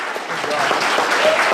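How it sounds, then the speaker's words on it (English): A brief burst of audience applause for both candidates at a state representative primary forum for Districts 3 and 5, steady and fairly loud throughout. "I'd like to first give both of them a great round of applause"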